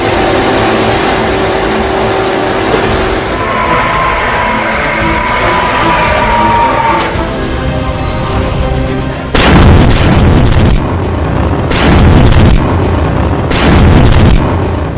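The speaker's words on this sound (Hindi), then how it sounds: "यह है हिजबुल्लाह की क्रूज मिसाइल।" Loud, heavy booms from Hezbollah cruise missile strikes, a rumbling roar for several seconds followed by three separate powerful blasts in quick succession, close and overwhelming.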